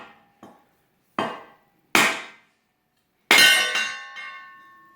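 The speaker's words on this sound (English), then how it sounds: "It's a 4-pound hammer, so go ahead and try to hit this." A 4-pound hammer strikes a 2x4 set on a Kindling Cracker splitter, giving about five sharp, loud metallic clanks with ringing decay and uneven gaps between the blows.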